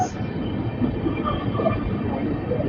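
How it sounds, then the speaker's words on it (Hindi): The Rajendra Nagar Saharsa Intercity Express rolls past near Fatuha Junction in India, heard as a steady loud rumble and rattle of railway cars with a faint high squeal at the start. "ये कोई तो ट्रेन है राजेंद्र नगर सहरसा इंटरसिटी एक्सप्रेस"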